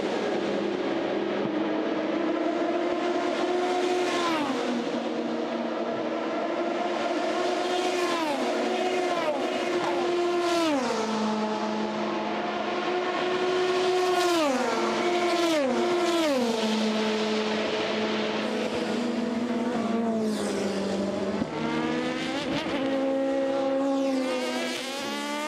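Oreca prototype race cars at the 2020 24 Hours of Le Mans scream past one after another, loud high-revving engines sweeping down in pitch with each pass and through each gear shift, a continuous roar with no talking.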